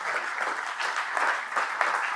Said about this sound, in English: So please, applause for the samplers.